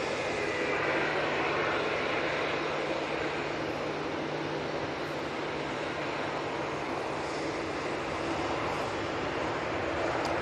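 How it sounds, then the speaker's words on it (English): A Eurowings Airbus A320neo jet airliner at Manchester Airport gives off a steady, broad engine roar that holds at an even level throughout, heard alone without any voices. "Eurowings A320 Neo now coming on."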